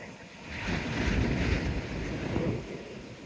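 Steady seaside wind rushes and buffets the microphone at a rocky coastal point, with surf rolling underneath in a continuous roar that swells slightly mid-clip; no voices.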